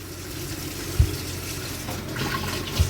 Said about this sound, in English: So I got hot water coming on.